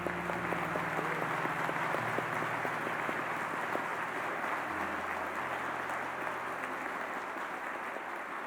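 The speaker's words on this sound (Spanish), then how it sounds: "Podemos dar un fuerte aplauso a nuestro Dios." A church congregation applauds during a Sunday service, a soft, steady patter of clapping while a low sustained tone hums underneath.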